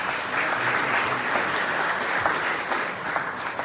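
Steady audience applause fills a convening hall on Saipan, a dense continuous wash of many hands clapping at even loudness throughout, with no voices standing out.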